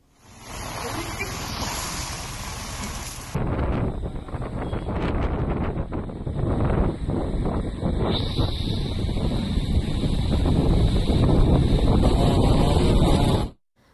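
Strong gusty cyclone wind in Machilipatnam, Andhra Pradesh, roars and buffets close by for most of the stretch, growing heavier toward the end before cutting off abruptly.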